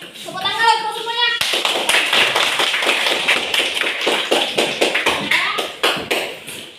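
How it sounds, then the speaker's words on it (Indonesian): Children clap together in a classroom in a dense, sustained burst of applause lasting several seconds, just after a brief spoken line. "Tepuk tangan untuk semuanya."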